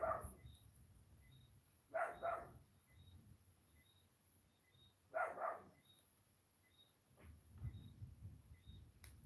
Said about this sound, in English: My dog is going crazy outside.